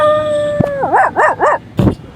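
A voice imitates a dog, giving three short wavering howl-like yelps in a row, then a louder final bark-like burst, with a held steady tone before it.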